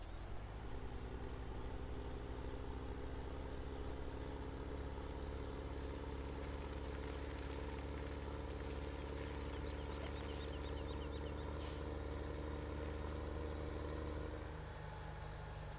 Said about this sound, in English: Gotta start my engine.